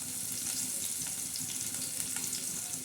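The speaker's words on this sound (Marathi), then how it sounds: "आता आपण याच्यात कांदा टाकणार आहोत आणि लगेच हिरव्या मिरच्या टाकणार आहोत" Onion and green chilies frying in hot oil make a steady, dense sizzle with faint stirring clinks, continuous and close with no talking.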